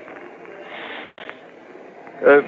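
A human voice imitates a rocket's hiss, a breathy, sustained hissing held close to the microphone that breaks briefly and then resumes, ending in a louder, rougher puff.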